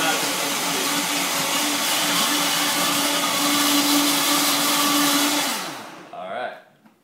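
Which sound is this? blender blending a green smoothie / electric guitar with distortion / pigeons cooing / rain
blender blending a green smoothie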